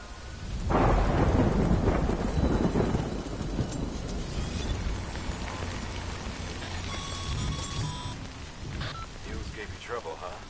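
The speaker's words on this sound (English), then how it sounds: "Good thing it was raining." Rain and rolling thunder in the video game Death Stranding, with a loud thunder rumble breaking in early and then steady rainfall continuing. A few faint tonal game sounds sit above the rain.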